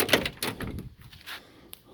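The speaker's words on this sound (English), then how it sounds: "And let me open the passenger door." Passenger door of a 1979 Pontiac Trans Am WS6 (W72) opening: a sharp latch click followed by a second clunk and softer rustle, close by, with no talking.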